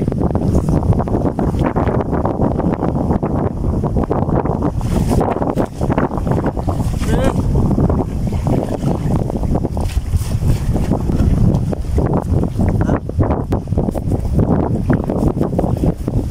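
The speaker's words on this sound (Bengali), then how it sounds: "প্রচুর বাতাস বইছে, বড় বড় ঢেউ আছড়ে পড়ছে" Strong wind on Chalan Beel wetland roars and buffets the microphone without pause, with rough churning water beneath it, loud and continuous throughout.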